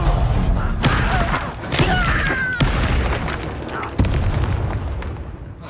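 Confringo blasting spells explode in the Hogwarts Legacy video game, with several sharp booming blasts and crackling impacts spread across a dense, loud layer of game sound effects and music.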